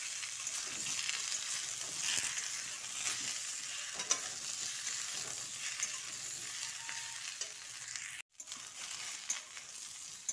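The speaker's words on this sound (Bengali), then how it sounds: "ফুলকপি ও আলুটা লাল করে ভেজে নিয়েছি।" Cauliflower and potato fry in a pan with a steady, soft sizzle and occasional scraping stirs, fairly close but quiet, with a brief dropout near the end.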